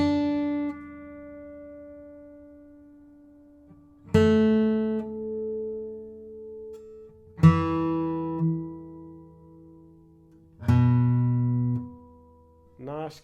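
A 1936 C.F. Martin D-28 acoustic guitar rings out in four separate strummed chords, each with rich, long-sustaining overtones that slowly decay before the next attack, played up close with no talking.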